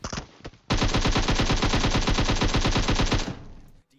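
Rapid automatic gunfire in the video game PUBG, a long sustained burst of loud, evenly spaced shots after a couple of single cracks, ending abruptly.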